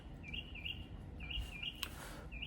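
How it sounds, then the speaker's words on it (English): Birds chirping outside through an open window on a hot day, repeated bright high tweets in short bursts, moderately faint against a soft room background, with no one speaking. "birds are just going crazy outside today"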